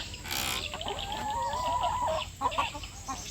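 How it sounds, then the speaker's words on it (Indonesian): Laying hens in a chicken coop in the morning after feeding, clucking and calling in a soft, steady chorus with one longer drawn-out call in the middle, heard alone without talk. "Oh, ini kandang ayam ya, bertelur, sudah diberi makan di pagi hari ya."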